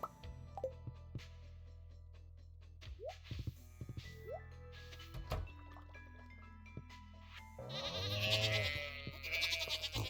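Sheep and goats on a farm in the video game Stardew Valley give several short, rising bleats at spaced intervals, set against soft game ticks and background music.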